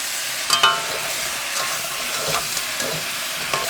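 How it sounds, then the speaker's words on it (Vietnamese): Fried pork is stirred in sauce in a pan over medium-low heat, giving a steady sizzle with scattered scraping and clacking from the utensil against the pan. The sound stays close and continuous. "Để lửa nhỏ vừa và mình đảo đều."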